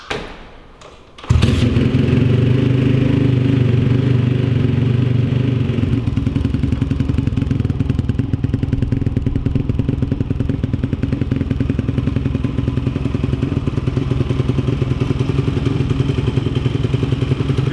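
Motorcycle engine cranking and catching after a brief clatter, then settling into a loud, steady, throbbing idle that runs on alone for the rest of the stretch.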